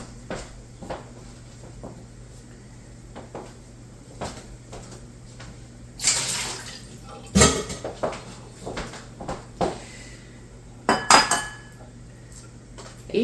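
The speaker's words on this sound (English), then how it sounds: "I usually struggle with peeling eggs, but today's gone kind of smooth" Boiled eggs being peeled by hand in a home kitchen: scattered soft taps and clicks, with a few louder crackly bursts of shell breaking away, close and with no talking.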